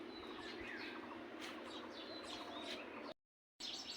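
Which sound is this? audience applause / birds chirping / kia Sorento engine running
birds chirping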